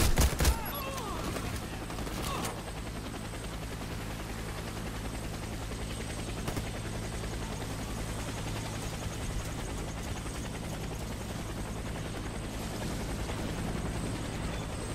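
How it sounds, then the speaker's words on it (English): A helicopter arriving for extraction in the Warface shooter game, its rotor chopping steadily and loudly throughout, with bursts of gunfire and sharp shots near the start. "Helicopter is inbound."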